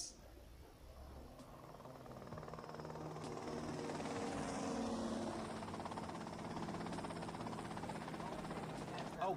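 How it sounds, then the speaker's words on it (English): A helicopter in GTA Vice City drones steadily with a whirring engine and rotor, swelling up after a quieter opening and holding at a moderate, even level. "that's them in the chopper"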